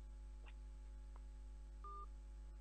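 Telephone dialing tones: a single short, steady beep stands out over a constant low electrical hum, with a couple of faint chirps beforehand, quiet overall.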